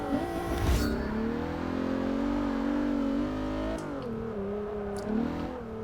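A race car in the Forza Motorsport 6 video game, from the Alpinestars Car Pack and fitted with sport suspension, its engine revving up and holding a strong, rising whine, with a brief gear change and continued acceleration.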